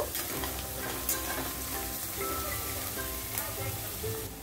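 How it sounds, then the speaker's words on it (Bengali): Chopped garlic fries with browned onions for homemade ghugni chaat, a continuous close crackling sizzle with stirring and no voices. "রসুনটা দিয়ে ভালো করে এটা কষিয়ে নেব"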